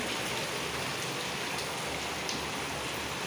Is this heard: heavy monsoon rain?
yes